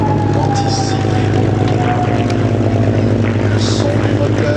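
A P-51 Mustang's piston engine drones loud and steady at an airshow at La Ferté-Alais, a constant propeller roar with a high whistle running through it and no voices.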